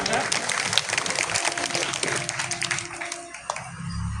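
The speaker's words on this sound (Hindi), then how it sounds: "माननीय अमर सिंह जी जो कामसेव से हैं, जोरदार तालियों से स्वागत करिए उनका।" Clapping from a gathering at a commemorative tribute event welcoming a guest, a burst of crowd applause that thins out, with voices and a sustained tone underneath.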